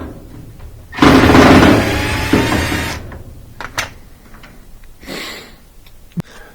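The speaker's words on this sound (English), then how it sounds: "I'm just using that same socket, 1/4-inch socket, but I'm using a ratchet, a small ratchet to get in there" A small ratchet with a 1/4-inch socket works a bolt loose on a Maytag dryer, a loud burst of ratcheting and scraping followed by a few sharp clicks and clanks, with no one talking.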